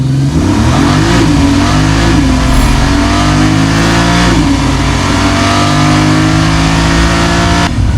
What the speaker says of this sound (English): Do you want to see the engine in action?